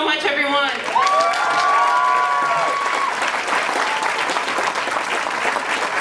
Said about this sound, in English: One more round of applause for Sarah.